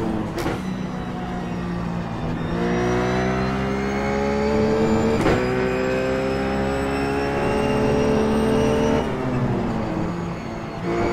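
In the iRacing game, a Ruf GT3 race car engine climbs through the revs in steady rising whines, with sharp drops at each gear shift. It stays loud and continuous with no one speaking.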